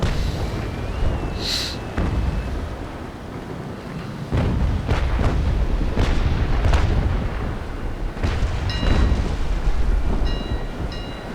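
Naval Action naval battle video game: booming cannon broadsides and impacts roll out in repeated heavy blasts across the clip, loud and close, with a few faint high chimes toward the end and no talking.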